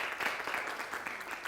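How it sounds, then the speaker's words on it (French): Audience applause on a television entertainment show, a brief burst of many hands clapping together, steady and moderately loud with no speech over it. "Je vais vous demander de vous applaudir plus fort que cela."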